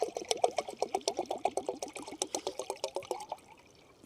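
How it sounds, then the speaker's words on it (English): Water pours in a steady gurgling stream into a pot, with rhythmic glugs that rise in pitch as the pot fills, then stops; close and fairly quiet. "I look for and add my water here"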